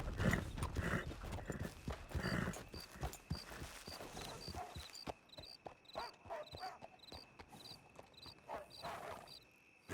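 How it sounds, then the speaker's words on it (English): Horse hooves clop unevenly on the ground in Red Dead Redemption 2, loud at first and then lighter, with small clinks of tack and a faint ringing tone in the background. "Hey, good-looking horse there."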